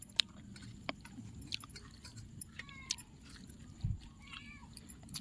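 A house cat being fed, chewing and crunching its food close by with short meows and faint chirping calls scattered through a quiet domestic background.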